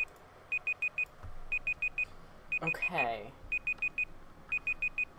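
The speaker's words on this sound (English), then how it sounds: "let me stop the timer" A timer alarm beeps in repeated rapid bursts of four, sharp and clear, while a voice briefly speaks over it midway.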